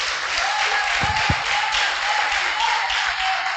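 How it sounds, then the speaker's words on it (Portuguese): A church congregation claps together in steady, continuous applause filling the room throughout, with a few sharper individual claps standing out up close. "Vamos aplaudir o nome do Senhor."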